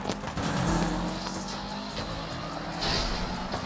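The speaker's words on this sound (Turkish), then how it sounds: "Bir kere daha burada şu arabaları çarpmaya deneyeceğim." Cars drive and tires squeal in a Need for Speed race, a steady engine roar with brief skids and bumps, fairly near and unbroken by talk.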